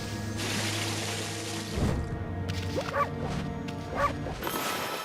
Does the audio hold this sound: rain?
no